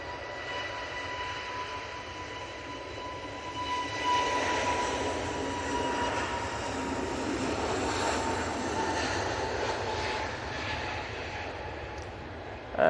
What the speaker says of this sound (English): This is EasyJet A320 Neo off to Tenerife.